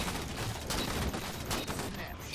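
Sniper rifle fire in the video game Halo 4, a few muffled gunshots and a rattle of battle noise heard faintly beneath a player's voice.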